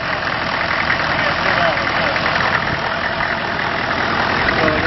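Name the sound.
car engine idling, throttle operated from under the hood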